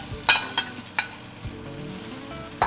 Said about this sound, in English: make sure to do it in a single layer and let your beef sear on one side first